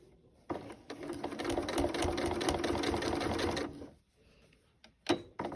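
A sewing machine stitches fabric in a fast, steady rattling burst of about three seconds, then stops, followed by a few soft clicks and a brief restart.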